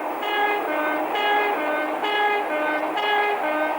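An Intercity 125 train sounds steady and fairly close, with harmonic horn-like tones pulsing roughly once a second over a continuous rolling rail noise and no voices.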